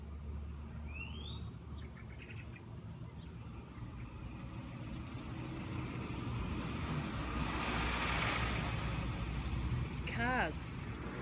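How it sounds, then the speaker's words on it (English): Cars pass on a quiet lockdown road beyond a garden, a soft swelling traffic rumble in the distance with birds chirping over it. "Cars."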